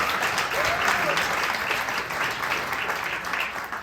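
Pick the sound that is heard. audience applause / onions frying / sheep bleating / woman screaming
audience applause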